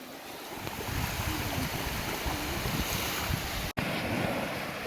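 Sea waves come in on a tropical beach, producing a steady, loud rush of surf mixed with wind noise across the whole stretch, with a brief dropout near the end.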